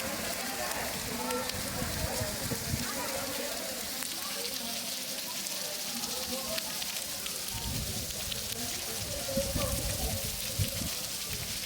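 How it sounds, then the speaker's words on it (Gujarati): Live rain falling in Talaja, a steady broadband hiss of drops on surfaces that holds throughout, with some low rumbling texture underneath. "લાઈવ વરસાદ શરૂ તળાજા।"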